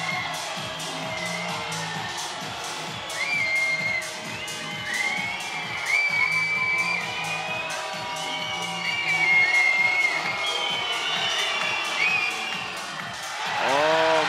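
Fans in the arena at the FIBA 3x3 World Cup 2023 men's semi-final, Serbia against Latvia, keep up a steady rhythmic roar with whistles and shouts during free throws, swelling and loudening toward the end.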